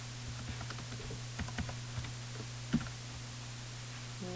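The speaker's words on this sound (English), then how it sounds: "I'm going to type my name and my course." Someone types on a computer keyboard in an office-software setting, producing light, irregular key clicks, one slightly sharper tap among them, over a steady electrical hum in a quiet room.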